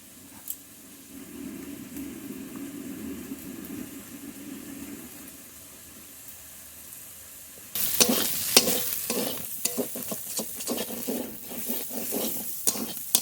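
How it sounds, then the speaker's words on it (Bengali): Prawns frying in a pan: a low, quiet sizzle for several seconds, then a sudden louder stretch of crackling and spatter with repeated stirring scrapes, close and continuous with no talk. "চিংড়ি মাছ ভাজা হয়ে গেছে নামিয়ে নেবো"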